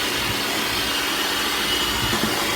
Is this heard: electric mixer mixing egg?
yes